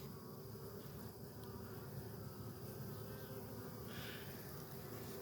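Honeybee workers, including Carniolan cross stock, buzz steadily inside an open hive, a dense, continuous drone close to the microphone with no talking.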